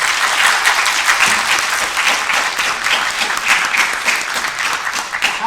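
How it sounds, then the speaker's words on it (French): Sustained, loud crowd applause at a gaming convention influencer panel in Paris, a dense wash of many hands clapping steadily with no pauses. "On peut les applaudir s'il vous plaît."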